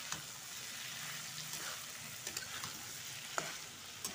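Spiced potato and capsicum frying in a pan with garam masala and coriander leaves, giving a faint, steady sizzle with a few light stirring scrapes and taps.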